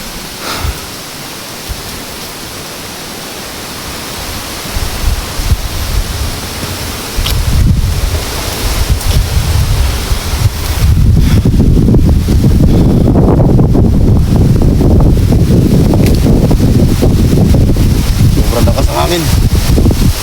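Wind blowing hard outdoors, gusting against the microphone in a rough, roaring rumble that swells louder partway through and stays strong to the end.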